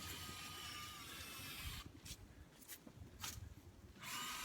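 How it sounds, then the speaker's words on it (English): A power drill whirs in short bursts during a rain gutter install at a lake cottage, starting and stopping several times with brief pauses between, fairly close by. "Got little Heston David down here drilling."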